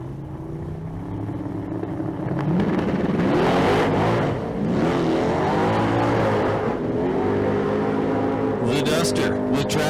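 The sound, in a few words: Plymouth Duster drag car launching at Street Car Super Nationals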